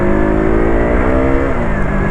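A 2018 KTM RC 200 motorcycle engine revs loud and close, holding a raspy, steady high-RPM drone with slight pitch shifts and no talking.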